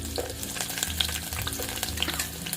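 Medium-sized onions fry in a pan for obbattu saaru, a steady crackling sizzle with stirring scrapes and a low hum beneath, close and moderately loud, with no talking.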